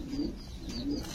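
A female Sobji Gorra pigeon coos softly in a short, low, rolling call, close by against faint background noise.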